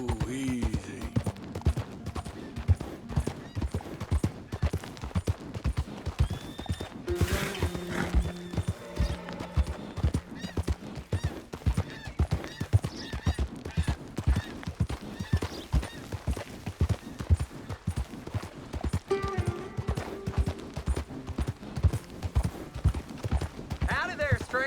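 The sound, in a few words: horse hooves and neighing, Red Dead Redemption 2 video game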